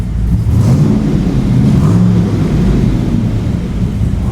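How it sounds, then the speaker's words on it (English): A 1965 Chevrolet Corvette convertible resto-mod engine revs loudly through side exhaust pipes, a steady deep rumble swelling and holding close by with no talking. "those side pipes sound so good"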